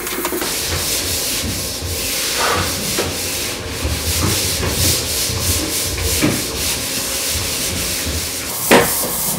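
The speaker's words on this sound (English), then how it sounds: "all of this is going on as the taper is sanding, getting ready for the polish coat" A drywall taper sands joint compound on sheetrock walls ahead of the polish coat, giving a steady, loud abrasive rubbing that runs unbroken through the clip, with a few sharper scrapes near the end and no talking.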